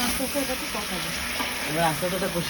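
Potatoes and cauliflower sizzling and frying in a pan, a steady close hiss throughout, with faint voice-like tones mixed in underneath.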